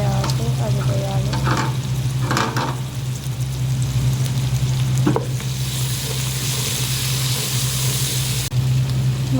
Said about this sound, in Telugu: కాసేపు వేగిన తర్వాత అల్లం పేస్టు వేస్తున్నాను